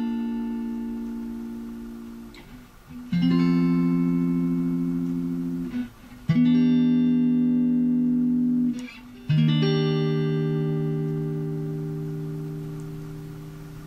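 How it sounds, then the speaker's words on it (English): Electric guitar sounding a four-chord progression in standard tuning, each chord struck and left to ring about three seconds with a clean, sustained tone, no voices. "We're going to be learning four chords that if we play them in a progression, sound like this."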